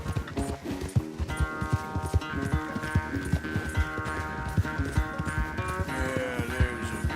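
Horse galloping during a race in the Red Dead Redemption 2 video game, with quick steady hoofbeats running under a loud orchestral music score throughout.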